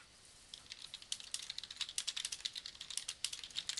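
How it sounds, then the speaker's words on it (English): Quiet, irregular clicking of keys pressed on a computer keyboard while working in Excel, a steady run of light taps that grows denser after the first half-second, close and alone with no talk. "I'm just going to press delete on the keyboard"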